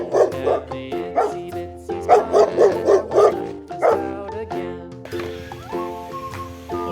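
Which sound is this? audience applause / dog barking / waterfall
dog barking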